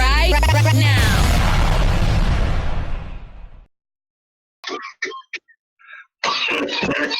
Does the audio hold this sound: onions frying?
no